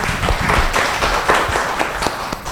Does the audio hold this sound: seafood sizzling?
no